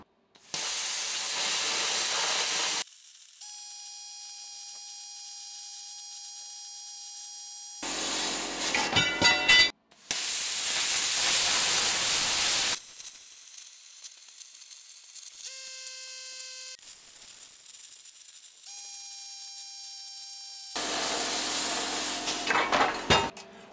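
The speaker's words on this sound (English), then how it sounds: "We're gonna be using our plasma cutter. This is Prime Weld's Cut 60." A Prime Weld Cut 60 plasma cutter slices thick steel plate into strips in a workshop, giving loud, steady roaring hiss bursts of a few seconds each, separated by quieter stretches with a high electrical whine.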